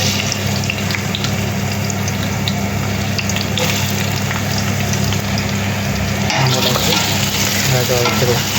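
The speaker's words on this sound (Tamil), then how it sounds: "கோல்டன் ப்ரௌன் ஆகிற வரை நல்லா வதக்கணும்." Onions sizzle steadily in hot oil with cinnamon, cardamom and cloves for a chicken biryani. The loud, continuous frying crackle is occasionally stirred, with faint kitchen clatter.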